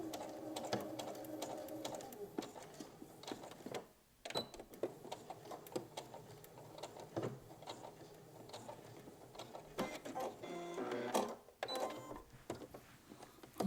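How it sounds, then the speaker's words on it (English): A sewing machine runs in bursts to back stitch the end of a hem on a McCall's 8035 garment, its mechanical whir stopping briefly and starting again in short runs at close range. "we're coming up on the end and we're going to make sure that we back stitch"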